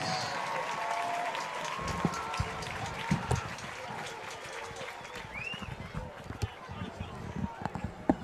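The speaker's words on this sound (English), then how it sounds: "let's give a round of applause to Miss Destiny Fields" Outdoor crowd at a Morgan vs Ben Lomand high school football game applauds counselor Destiny Fields: faint, distant scattered clapping with sharper claps popping through the ambient crowd noise.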